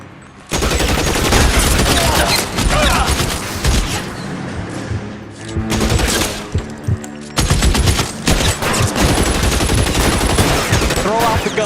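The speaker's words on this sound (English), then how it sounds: "Try shooting someone with a gun of his own." Heavy, sustained gunfire in an L.A. Noire police shootout, long rapid volleys of close, loud shots with a brief lull midway, a voice faintly underneath.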